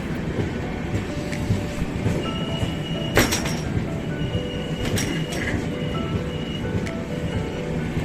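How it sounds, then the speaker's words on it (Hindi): A passenger train rolls slowly along the line, a steady low rumble of wagons with faint wheel clicks and occasional brief squeals, heard continuously from on board during a trip from Assam to Mumbai. "ट्रेन धीरे धीरे चल रही थी"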